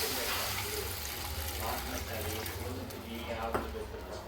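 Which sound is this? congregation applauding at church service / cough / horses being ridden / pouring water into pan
pouring water into pan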